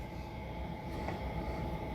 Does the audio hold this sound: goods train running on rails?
yes